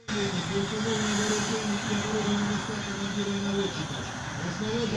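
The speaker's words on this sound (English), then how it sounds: "the T-80 tank, which runs on a gas turbine engine and makes a specific aircraft sound." A T-80 tank's gas turbine engine gives a constant, droning turbine whine with a low rumble and steady tonal hum throughout, loud and continuous like a jet engine idling nearby.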